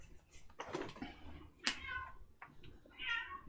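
A cat meows several times close by, drawn-out and strained cries with a pause between them, loud against a quiet indoor background.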